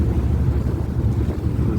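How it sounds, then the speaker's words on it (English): Ferry at sea off Ullapool and Stornoway, with wind buffeting the microphone and waves churning behind the vessel, a loud steady low rumble with no pauses. "With some of the waves out the back of the ferry."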